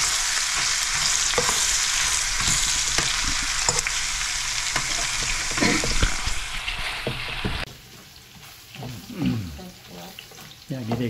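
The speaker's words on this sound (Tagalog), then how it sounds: "ginigisa na niya yung bawang" Garlic and onion sautéing in a pan for Filipino kare-kare, a loud steady sizzle with spatula scrapes for most of the time, then the frying drops away to quieter clinks and a faint voice.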